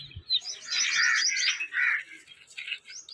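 A young pigeon gives thin, squeaky chirping calls in a few short bursts, close by and moderately loud.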